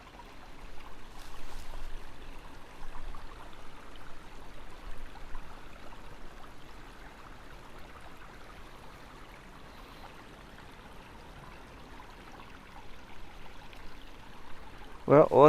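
A forest stream in James Kennedy State Forest flows steadily in a soft, continuous wash of running water, fairly faint, with a louder clatter near the end.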